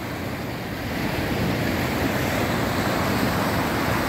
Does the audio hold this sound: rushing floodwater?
yes